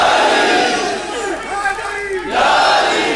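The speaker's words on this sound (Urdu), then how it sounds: "نعرہ حیدری" Large crowd at a religious gathering roaring the Haideri slogan in unison, a loud sustained mass shout that dips briefly and then swells again.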